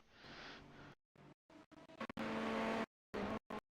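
A race car in the iRacing sim at Sebring, its engine roaring in loud bursts broken by sudden cut-offs as it brakes and lifts, with a tonal hum during the longer stretches and no talk.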